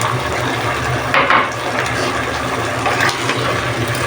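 A steady rush of chicken-feet boiling broth pours continuously into a pot, with a few brief splashy surges along the way.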